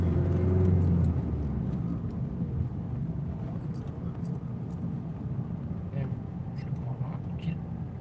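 A car accelerates during a driving lesson and shifts into second gear, its engine a steady close rumble that eases after the first second, with quiet mechanical clicks as an instructor talks.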